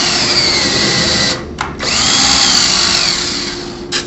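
Power drill driving and countersinking a screw into a Norman bullnose Z shutter frame, a loud steady whir that stops briefly mid-way, restarts, then cuts off near the end.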